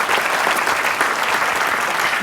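An audience at a Las Vegas State of the City event applauds a local graphic artist with steady, dense clapping that fills the whole stretch, loud and sustained with no talking.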